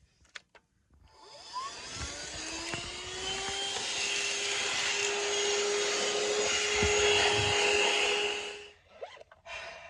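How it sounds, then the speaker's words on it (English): Vacuum cleaner running inside a van, switching on with a rising whine and holding a steady, close, loud roar with a high tonal hum for several seconds before cutting off, with a few handling knocks at each end. "I'm just going to vacuum"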